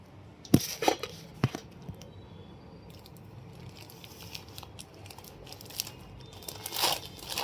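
A plastic packet of sago pearls (sabudana) being handled and torn open, with a few sharp crinkling crackles early on, then softer rustling close by in a quiet room, with no speech.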